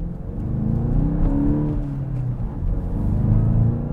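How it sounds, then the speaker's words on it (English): A 2023 VW GTI with a 2-liter turbocharged iron-block EA888 engine pulls hard under acceleration, a steady low rumbling drone with rising tone heard from inside the car, no talking. "really good response from the little iron block EA888 engine"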